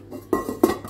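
A Salad Master cooking pot is handled, giving two close metallic clanks of pot and lid against each other, separated by a short pause.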